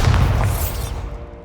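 The Bombarda explosion spell goes off in the video game Hogwarts Legacy: one loud, close, deep boom with a crackling burst that fades away within about a second.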